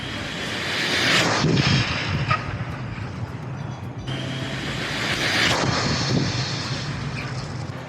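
A race-ready RC car on a 2S battery screams past at high speed, its whine rising and falling in two passes with wind rush, heard alone without talk.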